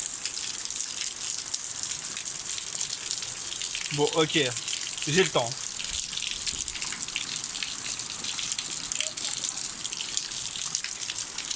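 Steady hiss of a shower running water, fairly close and continuous throughout, with someone briefly speaking over it midway.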